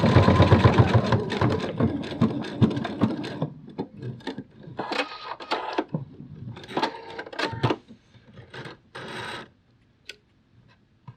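A sewing machine stitches fabric for a plush bat, whirring loudly in quick bursts at first, then in shorter stop-start runs that fade to silence at the end.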